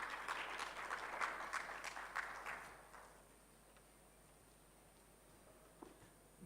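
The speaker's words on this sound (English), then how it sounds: "May we please clap for him as he walks up to the stage" Audience applause at a microfinance technology summit in a convention centre, a moderate round of clapping that fades out after a few seconds, leaving quiet room tone.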